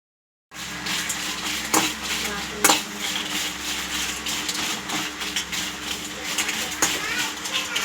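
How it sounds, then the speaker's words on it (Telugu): Dry red chillies fry on a low flame in a pan with no oil, giving a soft hiss under continual stirring and scraping, with a few sharp clinks while a person talks throughout. "కొంచెం కలర్ చేంజ్ అయ్యేంత వరకు ఇలాగా సిమ్లో పెట్టేసుకొని ఇలాగా వేపేసుకోవాలి"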